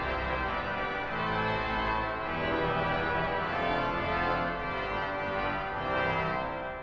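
The oboe, trumpet and clarion stops of a historic concert hall pipe organ sound together, producing a dense, loud, sustained reed chord that swells and moves slowly through several harmonies.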